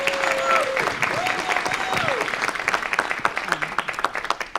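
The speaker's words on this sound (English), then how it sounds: "So give them a round of applause." An audience at a Las Vegas city council meeting gives a round of applause, the clapping dense at first and then thinning into scattered individual claps, with a voice heard over the start.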